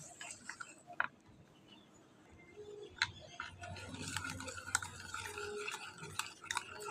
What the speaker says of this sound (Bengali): অনবরত এইভাবে নাড়তে থাকবো